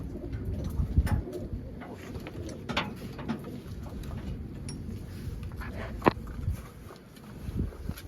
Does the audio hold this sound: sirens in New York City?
no